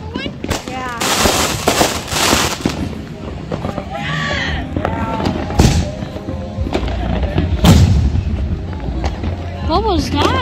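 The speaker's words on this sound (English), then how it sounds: "What was that? Just different fireworks." Fireworks bursting outdoors at a Fourth of July gathering, a dense run of loud booms and crackling pops with whistling rockets rising, while people talk throughout.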